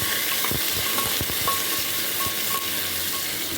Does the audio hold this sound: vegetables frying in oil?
yes